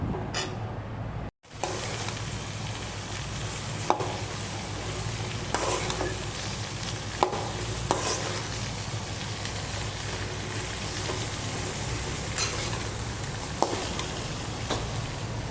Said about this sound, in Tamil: இப்போ மாங்காய் ஆட் பண்ணிக்கோங்க. ஆட் பண்ணிவிட்டு நல்லா மிக்ஸ் பண்ணுங்கள்.